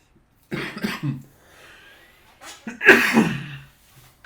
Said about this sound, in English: I'm trying to cough away from the microphone this time.